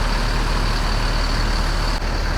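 A Hino RN bus engine rumbles steadily nearby as the bus departs, a low, continuous drone with traffic noise around it.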